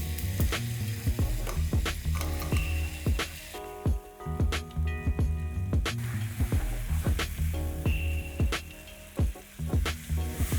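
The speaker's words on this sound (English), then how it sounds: "And allow this to sear on high flame." Chicken sears in a wok over high flame with a loud, continuous sizzle, punctuated by repeated sharp clanks and scrapes of a metal utensil against the pan.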